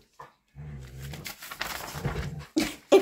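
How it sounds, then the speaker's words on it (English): Dogs play indoors with short yips, growly grumbles and whimpering squeaks, coming in uneven close bursts with brief pauses between them. "If you hear funny noises, it's the dogs playing."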